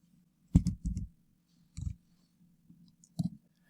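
Computer mouse clicks while working in Photoshop, a few crisp close double-clicks in small clusters separated by pauses, with a faint steady hum underneath.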